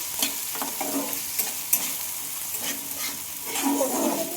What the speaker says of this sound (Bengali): পেঁয়াজের সাথে টমেটোর সাথে একটু ভালোভাবে আবারও ভেজে নেব